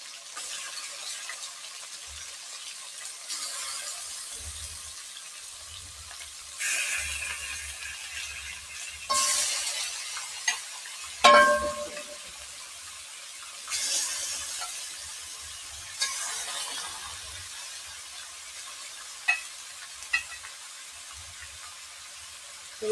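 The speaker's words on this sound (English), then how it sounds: "I want to just stir everything together." Jamaican brown stew pork stirred together in a pot, with intermittent scraping and clinking of a spoon against the pot, one sharp louder knock midway, otherwise quiet and without talk.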